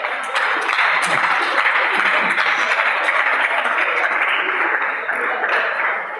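A classroom of students claps for a classmate who just scored marks in a blood physiology lesson. The steady clapping is fairly loud and close, with a few sharper claps standing out, and it lasts several seconds.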